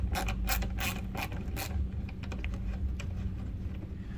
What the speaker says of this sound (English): We'll go ahead and use that same T25 Torx to remove it.